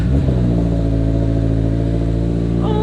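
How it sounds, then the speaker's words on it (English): A 2022 Subaru BRZ with a Borla S-Type catback exhaust fires up from a cold start, then settles into a loud, steady, deep-toned rumble at a raised idle, close by. "So we're gonna do the cold start right now."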